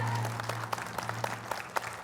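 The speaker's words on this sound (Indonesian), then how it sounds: "tepuk tangan" An audience at a forum for women legislative candidates in Bogor Regency claps in a fairly even rhythm, with sharp hand strikes roughly four per second over a low steady hum.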